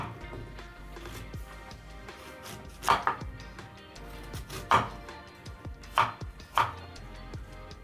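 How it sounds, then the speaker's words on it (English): A knife chopping peeled apples on a board, irregular cuts with a few sharper, louder chops standing out, quiet and close with no talking. "I'm going to chop them."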